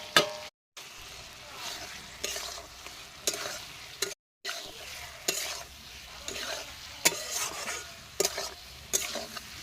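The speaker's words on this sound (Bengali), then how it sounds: "এবার ভেজে রাখা পটল আলু দিয়ে একসাথে দিয়ে দেবো।" Fried pointed gourd and potato sizzle in a pan of spiced garlic paste, stirred with repeated scraping strokes of a spoon, close and crackling, with two brief silent gaps.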